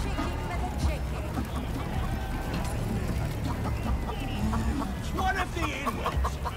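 Chickens cluck in a crowded, bustling scene from Baldur's Gate 3, the fowl calls rising over steady background chatter and babble for several seconds.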